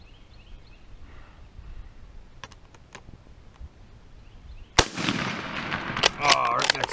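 An M98/29 Persian Mauser rifle fires one sharp, loud shot that rings out and echoes over an open outdoor range, followed by faint clatter and background noise.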